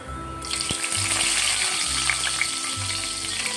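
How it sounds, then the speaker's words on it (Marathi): Cumin and mustard seeds drop into hot oil and burst into a sudden sizzle that stays loud and crackling, with faint low hum beneath, no talking. "जिरे मोहरी टाकून घेऊ आपण आता"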